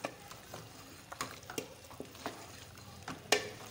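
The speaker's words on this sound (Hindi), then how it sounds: "ये मैं ना अब अच्छी तरह से भूनती हूँ।" Minced meat and potatoes being stirred and roasted in a pan for keema aloo, a spoon scraping and clinking in quick irregular strokes over a soft steady sizzle, close and fairly quiet.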